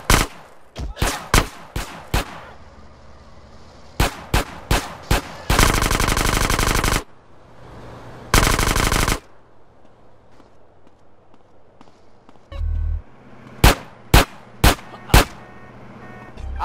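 Gunfire in GTA San Andreas: loud single shots in quick bursts, then sustained stretches of rapid automatic fire, with quieter footsteps and movement between volleys.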